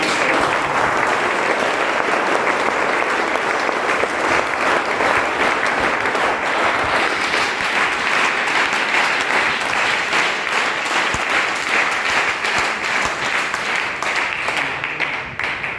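A large audience at a leadership meeting in Mauranipur, Jhansi claps loudly and continuously, a dense sustained burst of applause that fades slightly near the end.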